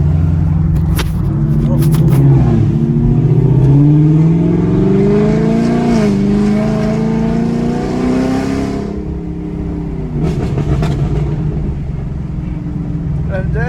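A Camaro 2SS fitted with a cold air intake accelerates hard, its engine note climbing and falling through several gear pulls, loud and close from inside the car, with voices talking over it.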